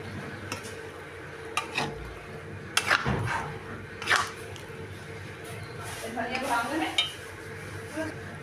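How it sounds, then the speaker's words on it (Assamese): Boiled potatoes being stirred in a metal pot on a gas stove, with scattered scraping and clinking of a spoon against the pot under a steady background hiss. "এতিয়া লাহে লাহেকৈ লৰাই দিম"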